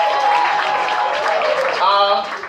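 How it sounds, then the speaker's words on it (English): Audience applause fills a live show in San Antonio, Texas, a steady dense patter of many hands held for the whole stretch, with voices mixed into the crowd noise and a brief swell near the end. "Clap it up for yourselves"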